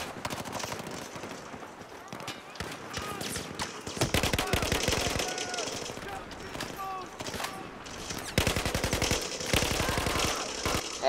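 Battlefield 4 video game gunfire, with repeated bursts of automatic fire and rapid shots through the clip, densest in the middle and near the end, over busy game sounds while voices talk.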